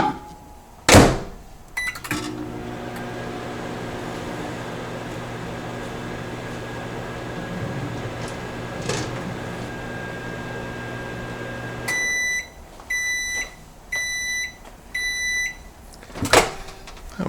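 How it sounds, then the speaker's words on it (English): A microwave oven hums steadily for about ten seconds after a door thud, then gives a series of four short electronic beeps before a final clunk of the door opening. "So we'll put this in the microwave for 1 minute."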